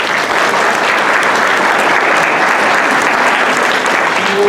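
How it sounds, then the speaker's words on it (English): Dense, sustained applause from an audience at a U.S. citizenship naturalization ceremony fills the room evenly and loudly for several seconds, a continuous wash of many hands with no pauses. "Please give her a round of applause."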